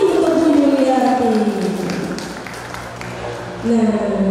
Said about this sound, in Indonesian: beri tepuk tangan yang meriah sekali lagi untuk Bu Yuliati